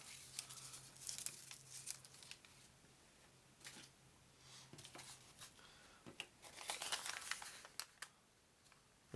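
A 1987 Topps 21 Jump Street sticker card wax pack is torn open, with close crinkling and tearing of wax paper in uneven bursts.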